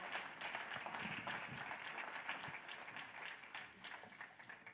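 A church congregation applauds during a Spanish-language service, steady dense clapping that carries evenly through the whole stretch with faint voices mixed in.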